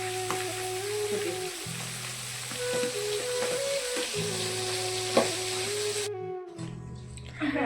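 Large fish fry in a pan with a continuous crackling sizzle that runs steadily, then cuts out briefly near the end before resuming, with no one speaking over it.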